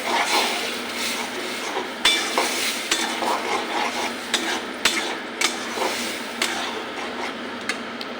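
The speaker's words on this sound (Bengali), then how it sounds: "ঝিঙাটা উপকরণের সঙ্গে মিশিয়ে নিই" Ridge gourd is mixed with ground paste and other ingredients in a pan for jhinge bharta: continuous close scraping and sizzling, punctuated by sharp taps of the spatula against the pan.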